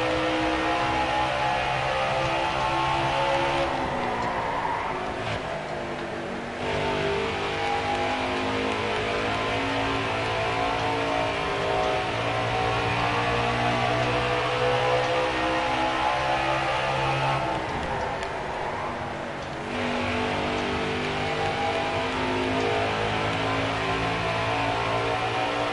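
Race car engines from NASCAR Heat 4 at Phoenix Raceway drone steadily for the whole stretch, a dense layered whine of several cars close together, easing slightly twice before building back up.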